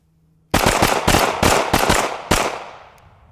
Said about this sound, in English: Five shots this time, guys. Five well-placed, highly accurate shots.